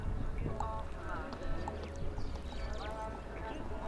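A show jumping horse's hooves on the arena surface at an FEI Jumping World Challenge event in Polokwane, faint rhythmic thuds under a commentator's voice and a busy background of crowd and arena noise.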